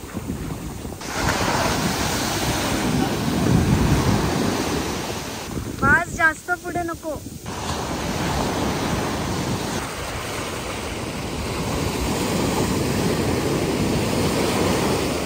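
Sea waves wash and break steadily along a beach where people stand in waist-deep surf, with strong wind buffeting the microphone and a brief spoken exchange partway through.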